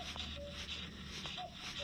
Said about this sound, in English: Hear a cuckoo in the background.